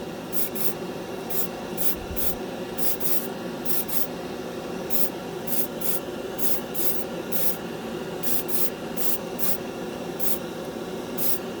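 An airbrush sprays Createx Wicked red paint at 30 psi, giving a soft, steady hiss with repeated short bursts as the trigger is pulled and released, close by and with no talking.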